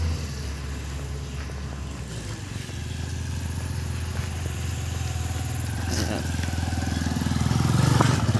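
A motorcycle engine on a mountain road in Antique, a steady mid-pitched drone that grows louder and closer toward the end, with some clatter.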